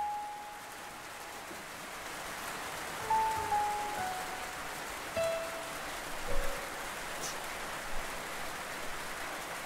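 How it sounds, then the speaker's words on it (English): Steady rain falls outdoors, a continuous broadband hiss of drops striking surfaces with a few faint tonal chirps and soft patters mixed in, close and even throughout with no voices. "Raining. Where did this come from?"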